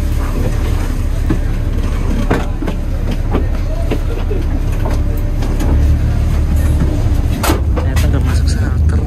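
Patas Semarangan intercity bus, a Hino RK8 with a Marcopolo-style Prima double-glass Gran Turismo body, rolling along the road without stopping at a shelter; steady loud engine and road rumble with rattles and clicks throughout, voices faintly underneath.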